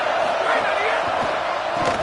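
A packed football stadium crowd roars continuously during a college game against UGA, a dense, loud wash of cheering with no breaks.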